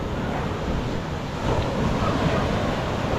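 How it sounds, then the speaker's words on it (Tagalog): A cool sea breeze blows by the water in a constant, loud rushing roar that buffets the microphone and swells slightly partway through, with no voices. "Malamig ang simoy ng hangin"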